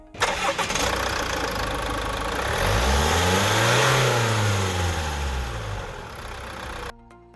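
A Ford/PSA 2.2 litre DW12 diesel car engine cranks and fires up, revving briefly with a rising and falling whine before settling, then cuts off abruptly.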